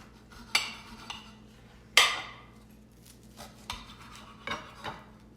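A knife cuts a black bean burger in half, striking a plate with several sharp clinks and clacks spaced over a few seconds, up close in a quiet kitchen.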